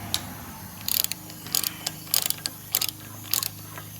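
A ratchet works loose the rusty 14 mm caliper bolts on the rear brakes of a Buick Enclave, making several short bursts of rapid metallic clicking separated by brief pauses, close by.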